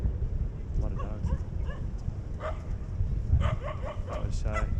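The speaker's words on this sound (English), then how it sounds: "A lot of dogs." A pack of street dogs in Sanur, Indonesia barks and yips in scattered short bursts from moderate distance, while people talk nearby over steady outdoor background noise.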